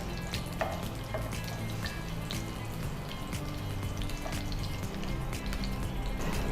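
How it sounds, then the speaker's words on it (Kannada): Green chillies fry in a pan with a steady, dense sizzle and scattered crackles and pops running continuously throughout, with no talking. "ಒಟ್ಟಿಗೆ ಫ್ರೈ ಆಗಬೇಕು"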